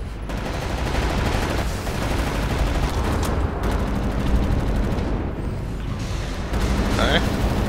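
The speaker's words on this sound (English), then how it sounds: "Now disable the machine gun" Sustained automatic gunfire from a machine gun nest in the shooter game Wolfenstein: The New Order, dense and loud throughout with booming impacts, and voices faintly mixed in.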